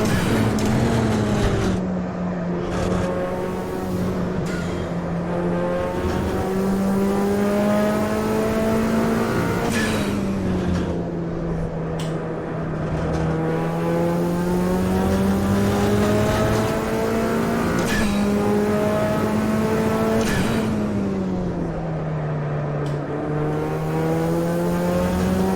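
A race car engine in a racing video game, a Jimmy's MX5, revs steadily and rises in pitch through repeated up-shifts, dipping and climbing again in long cycles, loud and continuous with no voices.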